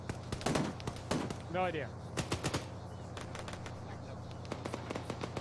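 Video game gunfire crackles in quick single shots and short bursts, scattered through the clip, while people talk over it.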